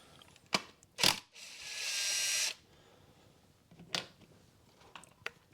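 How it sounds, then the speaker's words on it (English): Metallic clicks and a brief ratcheting whir as a Torx 30 bolt is undone on a 2013 VW Caddy 1.6 diesel, with a few sharp taps afterward, close and moderately loud. "all you need to undo is this bolt here, which is a Torx 30"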